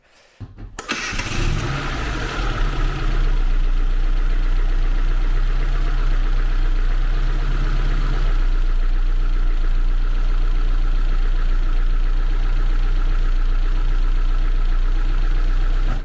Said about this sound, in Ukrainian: закручуємо свічки і готуємо двигун до запуску на 15 хвилин